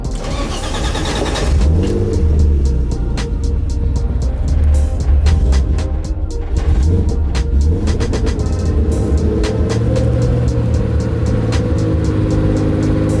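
A stripped-out BMW E30 car engine cranks and catches, then runs with a deep rumbling idle and a few revs, loud and close throughout.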